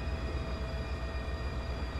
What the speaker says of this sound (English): Russian train coming out of the tunnel.